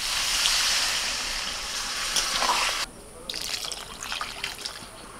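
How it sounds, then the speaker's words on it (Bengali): Water poured into a pan of potatoes and taro frying in spices, a steady gush of liquid that cuts off sharply, then gives way to lighter sizzling and bubbling. "জলটা দিয়ে দিচ্ছি।"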